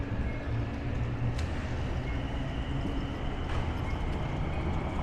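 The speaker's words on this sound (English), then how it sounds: "Sounds like there's a train up there." A low, continuous rumble of a subway train running overhead on an elevated track at 71st Avenue, Forest Hills, Queens, with faint clanks and squeals of the wheels over a steady background drone.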